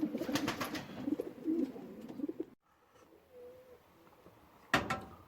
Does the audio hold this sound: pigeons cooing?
yes